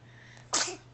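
A single sharp sneeze, close and fairly loud, bursting out briefly after a moment of quiet room tone.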